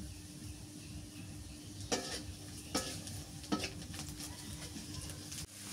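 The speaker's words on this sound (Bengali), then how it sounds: "পেঁয়াজ ভাজা হয়ে গেছে" Onions fry in a pan with a constant, fairly quiet sizzle, broken by three or four sharp scrapes of a spatula stirring against the metal.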